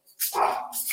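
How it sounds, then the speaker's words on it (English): A Yorkshire Terrier shut outside the back door gives a short burst of sharp, high-pitched barks and yips, close and fairly loud, two quick calls within a second. "that's my dog barking"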